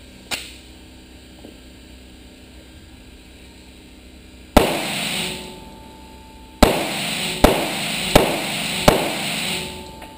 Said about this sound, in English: So right now, let's get to shooting.